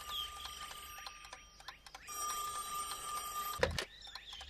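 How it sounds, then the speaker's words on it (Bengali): A telephone rings in a Bangla children's cartoon with a rapid electronic trill, starting and stopping in bursts against a quiet background, with a brief sharp knock near the end. "ভগবান দা মনে হয় আবার ফোন করেছে।"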